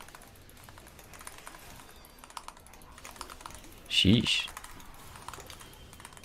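Rapid computer keyboard typing clatters quietly in the background during a League of Legends stream while a voice speaks briefly over it.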